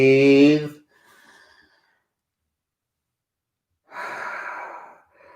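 Slow, steady breathing during a Bikram-style yoga forward fold with the forehead to a straight leg: a soft, faint breath is followed after a pause by a longer, louder airy exhale, with a brief voiced sound at the start.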